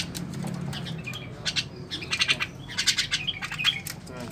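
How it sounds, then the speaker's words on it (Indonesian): Jalak Kebo (Javan myna) bird nearby, with a low rustle of flapping wings first, then a run of sharp, bright chirps and squawks in quick bursts, close and alone without talk. "Itu burungnya tuh."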